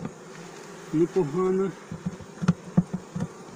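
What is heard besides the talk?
honey bees buzzing at a homemade hive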